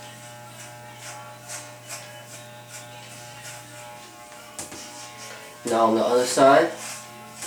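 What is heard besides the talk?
electric hair clippers cutting hair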